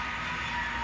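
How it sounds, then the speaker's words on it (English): A high-speed Kansas City Southern model train running on a club layout, a steady close rolling hum and whine with no break. "an invasion by the high-speed Kansas City Southern train"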